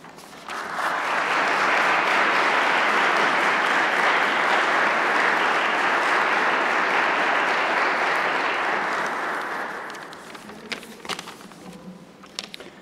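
An audience gives sustained loud applause welcoming university president Wallace Lowe at a Veterans Day celebration, swelling quickly, holding steady for about nine seconds, then fading into a few scattered claps.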